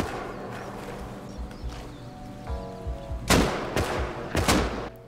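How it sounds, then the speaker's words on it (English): Gunfire in the survival video game Rust, with a few sharp broadband bursts clustered in the second half at mid distance over a low ambient bed, sounding like a short hail of shots. "we heard a hail of gunfire nearby"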